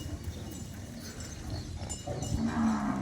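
Cows at the Shivgiri gaushala, a cow shelter, as a fodder truck with green feed arrives; a low, drawn-out moo rises near the end over a background of shuffling hooves and farm noise.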